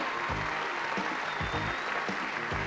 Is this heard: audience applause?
yes